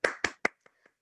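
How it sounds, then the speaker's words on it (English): Someone claps for Lauren Cooper at a dance event, three sharp close claps in quick succession followed by two fainter ones that trail off. "I think that we all owe Lauren Cooper an incredible round of applause."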